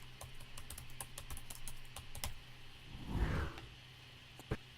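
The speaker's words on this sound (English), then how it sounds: "I guess I'll type my name here." Fingers type a name on a computer keyboard, a quick run of close, light key clicks that slows into a few scattered taps, with a brief low rumble partway through.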